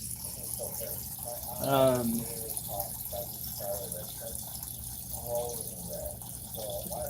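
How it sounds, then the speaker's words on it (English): Water from a tap runs as a steady low hiss beneath a voice speaking intermittently, with a short louder burst of speech early on. "let's get the water going here"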